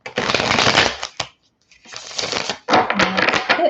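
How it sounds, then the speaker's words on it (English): Tarot cards shuffled close up in loud, dense bursts of riffling, with a brief pause midway before two more vigorous shuffles. "If we can get one more good shuffle,"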